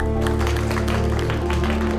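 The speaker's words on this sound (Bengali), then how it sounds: "সবাই জোরে হাততালি দাও।" A large audience applauds at a game-show style stage competition, dense steady clapping mixed with loud background music, continuous and full throughout.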